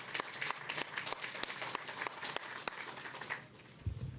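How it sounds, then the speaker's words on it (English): Applause for tenant association presidents at a public housing announcement: a room of people clapping steadily for about three and a half seconds, then fading out, with a low thump near the end. "You all deserve an extraordinary round of applause."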